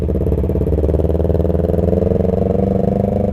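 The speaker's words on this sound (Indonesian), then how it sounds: "agak ketutup sama knalpot motor temen gua ini guys gitu" A friend's motorcycle on a night ride, its exhaust putting out a loud, steady low rumble with a fast pulsing throb that holds close and constant throughout.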